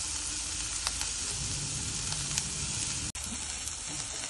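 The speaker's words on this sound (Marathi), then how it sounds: "मी हा कांदा टाकणार आहे। चांगलं खमंग असं जरा भाजू दे" Chopped onion frying in a pan with garlic, a steady bright sizzle filling the whole stretch with faint stirring clicks and one brief dropout near the end, no voices.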